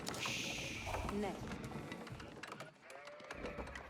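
Sheep bleat faintly in an Age of Empires 4 match, a short wavering call or two under a commentator's voice amid game sounds.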